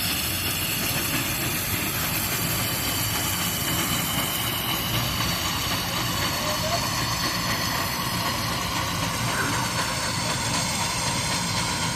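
A steam traction engine running at a threshers reunion makes a continuous hiss and mechanical rumble, with crowd noise around it and no clear talk.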